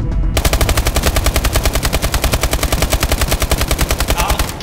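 Rapid automatic weapon fire in the Exo Zombies video game, a dense steady burst of repeated shots close and loud for several seconds, with a faint voice underneath.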